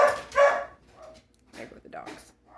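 Dogs barking close by in a couple of loud, sharp yaps followed by softer, scattered barks and whimpers, with a person talking over them.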